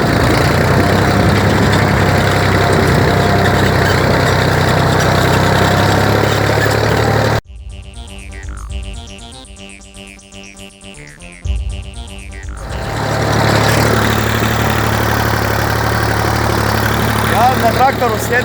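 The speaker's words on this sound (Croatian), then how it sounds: "traktor vrlo jednostavno i lagano vuče" A tractor engine pulls a plough through a field, a loud steady drone that drops out abruptly midway, leaving faint sounds, before the engine roar swells back and continues.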